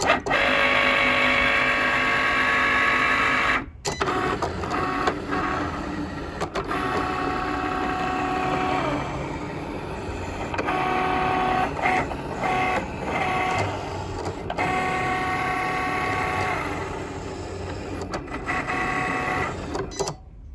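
A Cricut Explore Air 2 cutting machine runs with a steady whirring, buzzing motor drone, punctuated by brief stops and carriage shifts, close and moderately loud with no talking.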